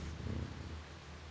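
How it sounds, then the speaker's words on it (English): Kittens purring in the Stray video game, a soft, continuous low rumbling purr close by, with no meows standing out and no talking. "Cute little kitties. Oh my god, I love the meowing."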